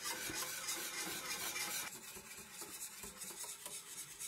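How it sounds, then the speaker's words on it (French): A spoon stirring pastry cream in a pan over medium heat, giving a soft continuous scraping rub close by, quiet and with no talk. "je vais comme ça touiller à feu moyen jusqu'à ce que ma crème pâtissière épaississe"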